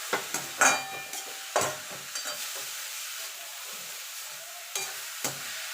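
Vegetables frying in a pan for a vegetable chop filling are stirred in a few quick scraping bursts over a steady close sizzle, with no one talking.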